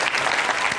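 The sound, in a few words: studio audience applause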